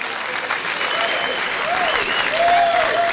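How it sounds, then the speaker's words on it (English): A hall crowd at a club awards night claps in steady, sustained applause, with some voices and a few whistles mixed in. "I think he deserves a great round of applause for that."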